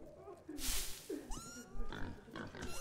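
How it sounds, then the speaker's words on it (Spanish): A pig grunts and oinks a few times amid synthetic sound effects in the game Metro Exodus, with short tonal blips and swooshes around it. "Al cerdo no puedo hacerle nada."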